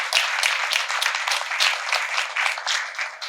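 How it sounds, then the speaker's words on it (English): A room of attendees at a tribute gathering with the Texas Jewish Historical Society claps steadily for a few seconds, dense and fairly close, with no speech over it. "Can we have a round of applause for everyone who's here?"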